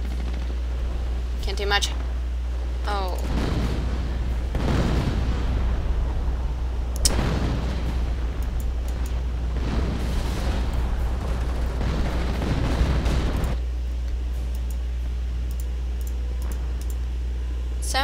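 Rifle fire in a war strategy game pops in scattered volleys and bursts across the middle of the stretch, with a steady low hum beneath and a commentator talking over it.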